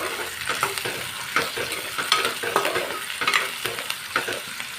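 Onions frying in hot oil for a chicken curry are stirred in a pan, giving a steady close sizzle broken by repeated scraping strokes of the spoon, with no voices.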